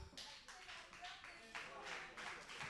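Clapping from an audience at a televised school contest semifinal, in uneven bursts that swell and dip, with a voice faintly underneath.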